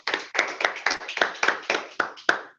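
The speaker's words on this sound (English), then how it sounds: "Everybody clap for her." About ten distinct, fairly loud hand claps at a club meeting, spaced in a loose steady rhythm as if from a small audience or one person, with no talking.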